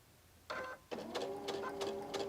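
A domestic sewing machine stitches a quilt block in short runs, a rhythmic mechanical whir starting and stopping with brief pauses as the fabric is pivoted.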